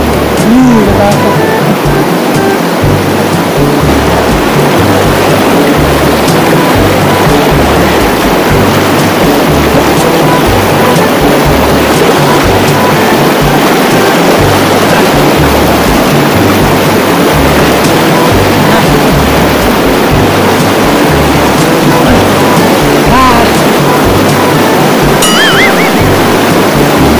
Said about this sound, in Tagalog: Kaso hindi na kaya malakas sa agos.